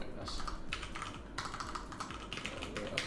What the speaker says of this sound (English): I'm just cracking under the pressure of typing in front of people